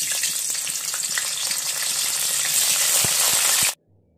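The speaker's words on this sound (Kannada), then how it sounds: "ಈ ಕಾಲಿಫ್ಲವರನ್ನು ಆಯಿಲ್ಗೆ ಹಾಕಿ ಫ್ರೈ ಮಾಡ್ಕೋಬೇಕು" Cauliflower florets deep-frying in hot oil in a kadai give a loud, steady, dense sizzle with faint crackles, close up and without speech, then stop abruptly near the end.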